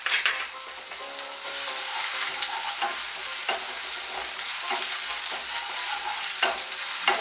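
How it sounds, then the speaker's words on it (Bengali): Ginger paste frying and being stirred in a pan while cooking Bengali potol chingri, a steady sizzle with repeated scraping strokes of a spatula, close and continuous with no talk. "একটু নাড়াচাড়া করে নিয়ে"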